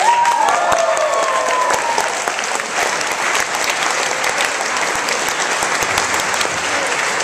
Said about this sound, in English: everybody let the cheer for Steve and Amy